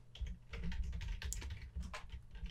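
Steady, fairly close typing on a computer keyboard while writing code for a Godot game, a dense run of key clicks with no talking.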